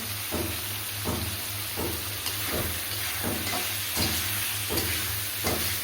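Hilsa fish curry with vegetable stems, potato and green chillies being fried in a pan, a steady sizzle under soft repeated stirring scrapes about once a second, close and alone.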